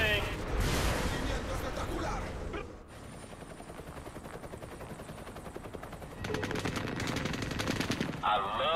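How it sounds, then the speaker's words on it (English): Rapid bursts from a vehicle-mounted .50 caliber machine gun in Saints Row: The Third, loud and sustained at the start, dropping out briefly, then returning as dense automatic fire with a helicopter-like drone. "somehow I'm able to shoot this 50 cal machine gun here"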